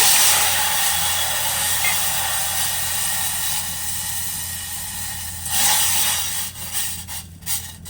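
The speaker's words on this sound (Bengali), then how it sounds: "সসপ্যানের মধ্যে এখন জল দিয়ে দেব।" Two cups of water poured into a saucepan on a lit gas stove for sugar syrup, a steady close rushing hiss that fades into a few soft knocks and clatters.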